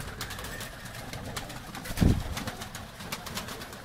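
Pigeons coo softly in a low, throaty murmur, with one louder coo standing out midway against faint background noise.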